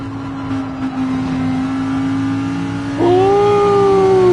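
Race car engine in a racing video game, a loud steady tone that climbs sharply in pitch as the car accelerates through a turn, heard close and alone.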